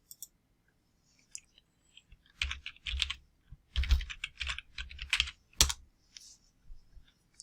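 Keys clatter on a computer keyboard in uneven bursts, a few isolated taps and then a quicker run of close, crisp keystrokes with pauses between.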